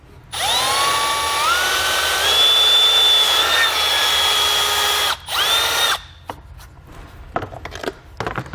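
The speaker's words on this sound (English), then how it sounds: "we're going to grab our step drill bit and just drill through here" Loud whining step drill bit grinding through a panel on a 2017 GMC Canyon for several seconds, pitch shifting as it bites, briefly pausing, then a few clattering knocks and scrapes.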